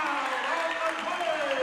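A basketball crowd at a boys varsity game cheering and clapping after a play, a dense, sustained roar of voices and applause, fairly loud and continuous.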